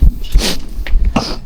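A single sharp sneeze bursts out near the start, followed by a brief breathy sniff and a short vocal sound.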